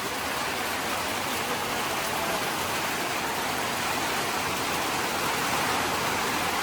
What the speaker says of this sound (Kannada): ತಗೊಳ್ರಪ್ಪ ಜೋರಾಗಿ ದಪ್ಪ ಮಳೆ ಅಂದ್ರೆ ಹನಿ ಬರ್ತೈತೆ.